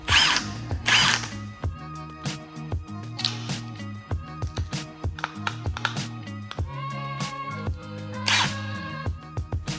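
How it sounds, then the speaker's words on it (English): A power drill runs with a cleaning brush attachment from a home and car cleaning brush set, whirring in repeated short bursts. A steady motor hum is broken by clicks and stops, loud and close with no talking. "let's see if it fits the drill"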